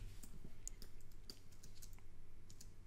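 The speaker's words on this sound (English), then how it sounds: "pressing Option or Alt on your keyboard and then hitting the end bracket" Keys on a computer keyboard are pressed in a quick, irregular run of light, crisp clicks, close and quiet, with no talking.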